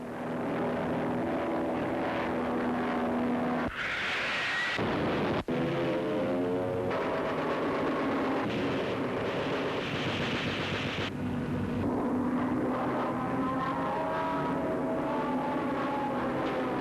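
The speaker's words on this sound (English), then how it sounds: "The Aussie pilots dived low, almost to the floor of the valley, taking incredible risks" Australian 77 Squadron fighter aircraft dive low over a valley floor amid ground fire, a loud sustained engine roar that swells and shifts in pitch as the planes pass, with brief breaks in the rumble.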